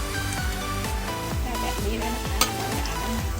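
Steady sizzling of pork belly frying in hot oil in a wok, a dense crackling hiss with a stirring scrape and one sharp pop near the end.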